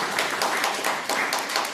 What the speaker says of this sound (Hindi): मैं उनके लिए एक जबरदस्त ताली भी चाहूंगा मिस्टर अजय दानी सर के लिए